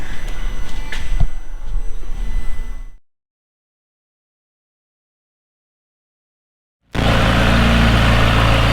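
A 2018 McLaren 570S runs after a cam phaser replacement with a steady, even engine hum. The sound cuts out for several seconds, then resumes louder and just as smooth.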